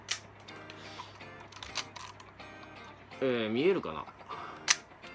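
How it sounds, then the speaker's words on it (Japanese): A Nikon F film camera with a Photomic finder, bought as a junk auction unit, gives a few faint, sharp shutter and mirror clicks scattered among quiet talking close to the microphone. "シャッターを切った瞬間にちょっとミラーが緩むんですけどね"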